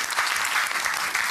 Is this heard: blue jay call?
no